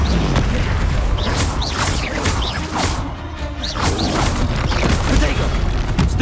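Confringo blasting spell explosions in Hogwarts Legacy combat, heard as repeated whooshing blasts and crashing booms layered over dense mechanical clatter and game noise, loud and close throughout.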